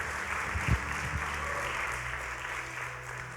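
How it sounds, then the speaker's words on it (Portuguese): A church congregation applauding during a sermon, a soft, steady wash of clapping heard from a distance under a low room hum, with a couple of louder knocks early on. "Pode aplaudir a Jesus."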